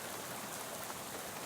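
Steady rain in the video game Shadows over Loathing, a soft continuous hiss of falling drops with an even patter throughout and no talking.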